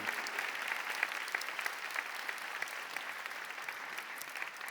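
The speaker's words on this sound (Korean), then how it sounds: "뒤돌아서 인사하고 들어가실 때 큰 박수로 축하해 주시기 바랍니다" A church congregation applauds choir members at a choir appointment service, continuous even clapping from many hands, moderately distant and soft.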